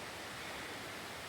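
A waterfall at Jones Gap State Park rushes in a steady, broadband wash of falling water, brief and fairly soft.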